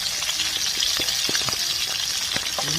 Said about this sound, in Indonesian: Kita goreng lauk asinnya.